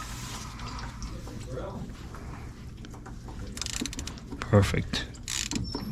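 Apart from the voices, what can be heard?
ratchet undoing a bolt on a Sprinter fuel pump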